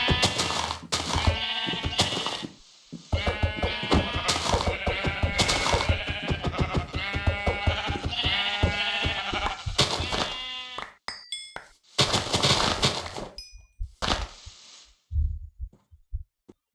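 Sheep bleating in the Minecraft video game, version 1.10.2, comes in repeated bursts over a busy, loud mix of game sounds, with brief pauses and scattered clicks toward the end.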